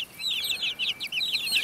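Small pet birds, taken outside for the first time, chirp excitedly in a rapid run of bright, high calls that are loud and close, with brief pauses between bursts.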